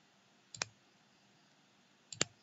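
Two crisp, close mouse clicks about a second and a half apart against near silence, each a short double-tick snap.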